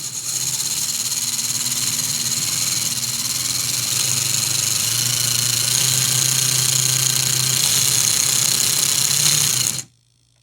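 Electric motor of a Capra RC crawler with TREAL mods whining steadily at speed on the bench, a continuous buzzing drone with shifting pitch, running alone for about ten seconds before cutting off abruptly.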